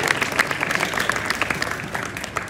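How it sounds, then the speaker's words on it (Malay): Sustained clapping from an audience at a motivational talk, an even wash of many hands throughout, fairly loud and with no pauses. "Cik Gomel, Pak Su, belakang lah, tepuk tangan belakang."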